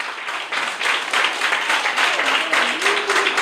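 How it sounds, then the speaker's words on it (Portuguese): Congregation in a church service applauding, a steady, dense wash of many hands clapping that stays loud throughout, with a faint voice or tone rising near the end. "dá uma salva de palmas bem forte para Jesus."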